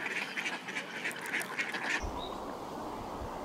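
Ducks quacking on open winter water, a run of fairly close raspy quacks for about two seconds, then a quieter ambient stretch with a distant call.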